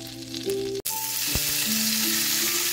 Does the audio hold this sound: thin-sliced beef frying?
yes